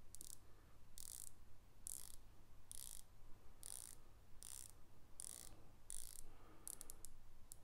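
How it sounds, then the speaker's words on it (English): A Cronos L6005 dive watch with a ceramic bezel is turned, producing evenly spaced light clicks, roughly one per second and then a quick cluster at the end, close and quiet over a steady low hum. "Pretty consistent clicks, a little bit of wobble and bounce in it, not as firm as my San Martin, and quite light to touch."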